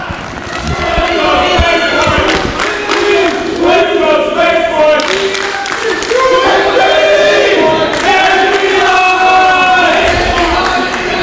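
A wrestling crowd at an independent show cheers and chants loudly and continuously for Aaron Nova, a dense roar of voices with rhythmic shouted chants, and a commentator talking over it.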